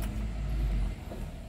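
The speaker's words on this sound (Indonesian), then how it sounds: "Terus kita nyalakan mesinnya." A 2014 Toyota Avanza G 1.3 Luxury engine starts up, a steady low rumble that holds close and loud for about a second before easing slightly into idle.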